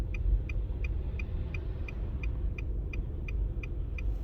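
Car hazard lights ticking steadily inside a vehicle on a road with traffic behind, about two and a half clicks per second, crisp and close over a low rumbling engine and road noise.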